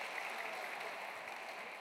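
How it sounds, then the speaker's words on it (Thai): Audience applause at a Thai luk thung country music concert, a steady, dense wash of clapping that holds evenly throughout at a moderate distance. "ปรบมือให้อาจารย์เรืองยศนะครับ"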